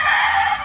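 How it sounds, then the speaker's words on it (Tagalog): Chickens being readied for shipment give a single short, loud, close call, a brief rooster-like squawk or cluck. "Ito yung mga kinuha niyong manok sa Expo."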